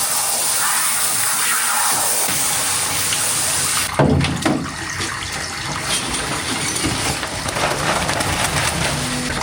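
Water runs and gushes during a dog's bath, a steady close stream that briefly changes as the flow is moved or splashes, continuing with wet sloshing afterward.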